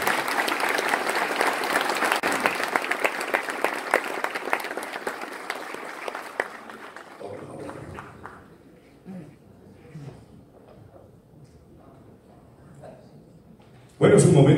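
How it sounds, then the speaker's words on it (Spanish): Theatre audience applauding a performance, dense and loud for about seven seconds, then fading into scattered claps and murmurs before a sudden loud burst at the end. "Un aplauso."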